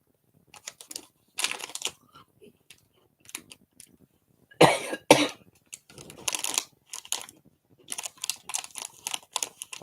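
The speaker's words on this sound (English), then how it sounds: "I've got me a bad cough." A person with a bad cough coughs several times, harsh isolated bursts separated by quiet gaps, close to the microphone while crafting indoors, with occasional clicks and rustles in between.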